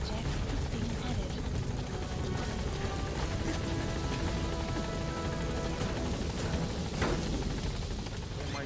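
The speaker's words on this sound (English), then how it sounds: "Support helicopter has arrived." Support helicopter in the Metal Gear video game, a steady, loud rotor drone filling the whole stretch without a break, with game sounds and voices mixed in underneath.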